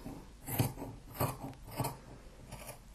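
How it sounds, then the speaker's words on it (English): Scissors snipping the edge off a fabric skirt panel, four crisp close cuts in a steady rhythm, no talking. "Now all I'm going to do is just cut this edge off."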